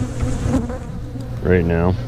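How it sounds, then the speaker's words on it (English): Honeybees swarm and fan close around a beekeeper's veil, a dense, steady buzzing that fills the whole clip, with a brief spoken phrase near the start. "there's so many bees on my veil, they're actually fanning my face"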